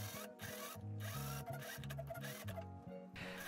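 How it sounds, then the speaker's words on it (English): A sewing machine stitching ruffles onto a skirt hem runs in a fast, steady mechanical whir with brief pauses and restarts, close and fairly loud. "sew the ruffles onto the skirt"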